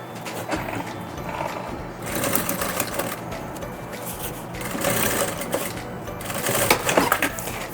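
A sewing machine stitching bias binding onto a fabric box, its rapid mechanical chatter running in uneven bursts with brief pauses, close and clear.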